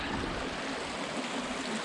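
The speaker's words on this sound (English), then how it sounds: "There is a little waterfall, but a waterfall nonetheless, right here." A small waterfall along a short hiking trail gives a steady, broadband rush of falling water, even and continuous at close range with no voices.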